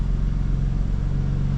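A BMW G87 M2 engine idles through its tuned exhaust, a deep, steady rumble with a pulsing low burble, close and loud, with no voices.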